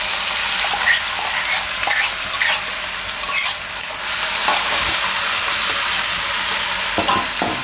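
Ginger, chili and garlic fry loudly in hot oil, giving a dense, continuous sizzle with scraping stirs and a short dip in intensity partway through.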